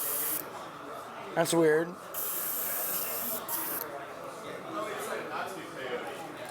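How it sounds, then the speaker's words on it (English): An airbrush sprays ink in a steady hiss that runs through most of the stretch with brief pauses and restarts, close and fairly loud, while a person speaks briefly over it. "Watch my spray, it's a perfect spray."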